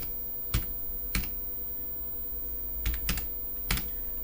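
Numbers are typed on a computer keyboard in a few sharp, separate key clicks spaced unevenly across the stretch, close and clear, with no talking.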